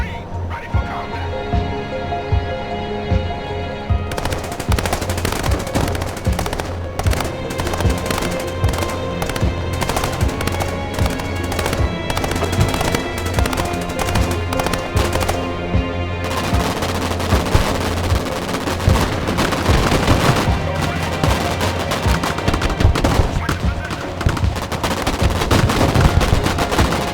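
Sustained machine gun fire and explosions roar through a modern military video game battle with U.S. Marines under attack, loud and dense, under steady music and brief in-game voice callouts.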